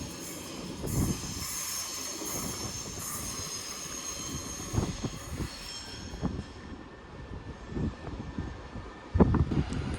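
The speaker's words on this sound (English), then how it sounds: "390 135 City of Lancaster's departing with an Avanti West Coast service to Edinburgh" An Avanti West Coast Class 390 electric train departs London Euston for Edinburgh, a steady rolling rumble with a high whine and intermittent wheel squeals and clanks over about ten seconds, near and fairly loud, with no talk.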